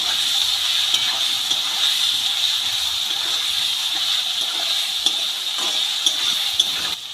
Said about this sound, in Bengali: একটু লঙ্কা বাটা দিলাম মশলাটা দিয়ে আলুগুলোকে ভালো করে ভেজে নিচ্ছি